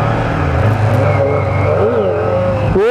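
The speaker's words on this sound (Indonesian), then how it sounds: "Ini suara motornya halus." A Kawasaki Ninja four-cylinder motorcycle engine revs at night on a road, a steady loud drone that rises and falls in pitch, then climbs sharply in a quick rev at the end.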